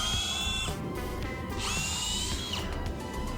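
A cordless brushless drill boring into wood whines at high speed, bogs down and slips repeatedly as the bit is forced, its pitch rising and falling in short bursts close up with no talking.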